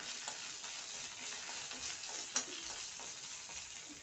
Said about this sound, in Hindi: स्पून की सहायता से एक बार इसको चला देंगे।